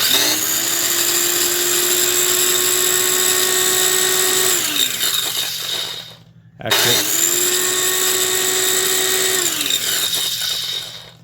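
A Craftsman Commercial 4-inch trim saw's motor and freshly re-greased gearbox whine loudly at steady speed, wind down, then spin up again for a second long run, close by.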